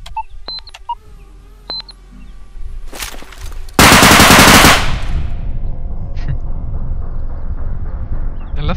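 Rapid automatic gunfire in the realistic first-person shooter Bodycam, a loud close burst after a few beeps and clicks, followed by a lingering rumble and a faint later shot.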